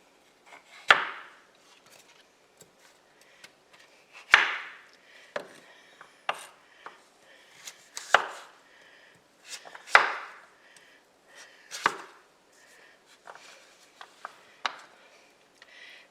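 A knife cuts through butternut squash on a cutting board for soup: about eight firm, separate chops a second or two apart, close and clear, with faint knocks and scrapes between them and no talk.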